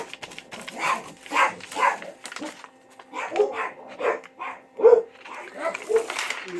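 Several dogs bark in repeated short bursts, some yipping and whimpering, at moderate distance with no other sound between.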